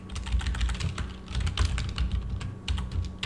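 Quick typing on a computer keyboard, a steady patter of close, clicky keystrokes with brief pauses, heard alone without speech.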